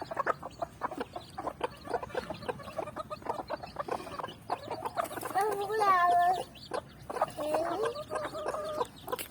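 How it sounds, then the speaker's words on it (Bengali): A flock of hens clucks busily while pecking at scattered rice, giving repeated close, choppy clucks with a brief louder squawking call in the middle. A voice talks intermittently underneath. "খাচ্ছে তো, সব মুরগিগুলা খেয়ে নিচ্ছে সব"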